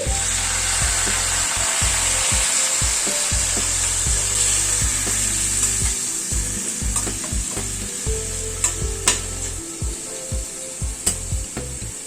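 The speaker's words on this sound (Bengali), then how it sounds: "সামান্য একটু গরম জল অ্যাড করছি।" Pointed gourd and potatoes frying in a pan as a little hot water goes in, a loud, steady sizzle with a high hiss, then scraping and stirring knocks that grow more broken and irregular toward the end.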